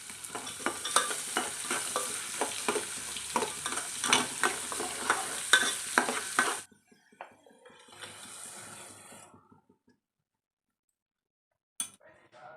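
Dry fruits fry in ghee in a pan, a close, busy sizzle with stirring scrapes and clinks for about six seconds, then a quieter hiss fading out before a brief clink near the end.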